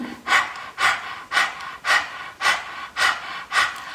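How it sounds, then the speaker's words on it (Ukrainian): Rapid dog-style panting through an open mouth with the tongue stuck out, done as a kundalini yoga breathing exercise: about eight even, breathy rhythmic pulses, close and clear, with no talk over them. "почніть дихати через рота по собачому"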